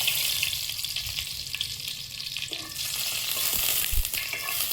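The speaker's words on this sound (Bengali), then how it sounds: "কড়াইতে তেল দিয়ে দিচ্ছি, ডালটা ফোড়ন দিয়ে নেব।" Dried red chillies and spices crackle in hot oil in a kadai as dal is tempered, a loud steady sizzle with bursts of spattering close up.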